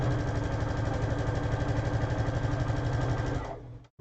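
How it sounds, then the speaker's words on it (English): A sewing machine runs chain sewing at a fast, even stitching rhythm, close and steady, then slows and stops near the end. "start chain sewing."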